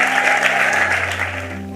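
A church congregation claps together in a steady, dense burst of applause, loud and close, with a sustained tone ringing underneath.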